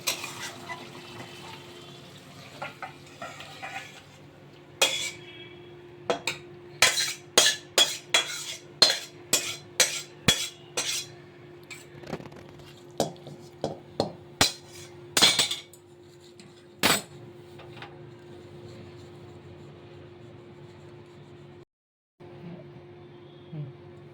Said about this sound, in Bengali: এবার আমি কাঁটা চচ্চড়িটা নামিয়ে নেব, ঢেলে নেব।